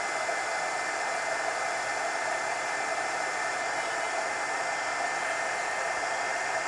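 A hair dryer blows steadily and loudly at close range to dry a page of an adult coloring book, a constant whooshing roar with no break and no voices.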